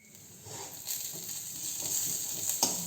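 Garlic, cumin, pepper and coriander frying in a pan for thuthuvalai rasam, giving a steady, close hiss of sizzling oil with soft stirring scrapes and no voices.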